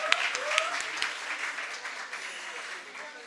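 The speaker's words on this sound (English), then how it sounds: "can we just give a round of applause for all of you?" Crowd of women at a Women's Day celebration clapping, a few sharp claps at first swelling into a steady round that gradually fades, moderately quiet.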